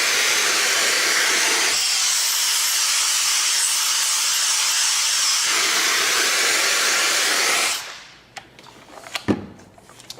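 A KENOS vacuum gripper's suction roars as a loud, steady hiss while lifting a plastic bag, then cuts off abruptly, leaving quiet crinkling and a few sharp handling knocks.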